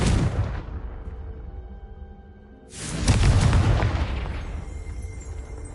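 A Confringo blasting spell detonates in Hogwarts Legacy, a loud explosive burst that rumbles and slowly fades, preceded by the tail of an earlier blast and no talking.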